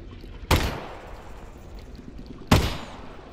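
Two sharp gunshots in the VR game Half-Life: Alyx, about two seconds apart, each a loud crack with a short decaying tail over a quiet background.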